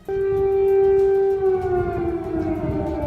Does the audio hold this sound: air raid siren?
yes